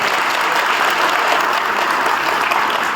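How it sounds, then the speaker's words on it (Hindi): A large crowd in Bhopani village greets Union minister Krishan Pal Gurjar with loud, dense applause. It is steady and unbroken throughout, with many hands clapping at once. "मैं पूरे जनसैलाब से अनुरोध करूंगा कि एक बार जोरदार तालियां बजाकर इनका स्वागत करें"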